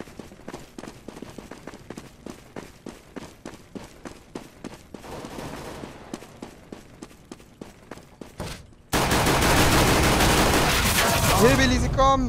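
Rapid, evenly spaced gunshots ring out in a CS:GO match, a steady burst of repeated shots at moderate loudness, followed by a sudden louder wash of noise, with occasional voices in the background.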